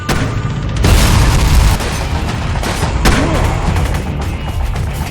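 Dense, loud gunfire from a film shootout, with booming bursts and overlapping shots running through the whole stretch, a heavier burst near the start and another near the three-second mark, all under a busy cinematic mix.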